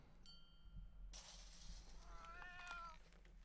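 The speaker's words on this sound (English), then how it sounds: "Let me know if you heard the cat going meow like that." A faint cat meow rises near the end, preceded by a brief crash and rustling clatter, all quiet against a low background hum.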